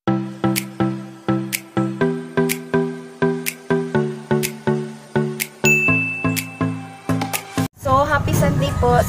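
A bright notification-style ding rings out repeatedly in a steady rhythm, each struck tone ringing briefly and decaying, with a quick flurry of tinkling chimes near the end before a burst of other sound.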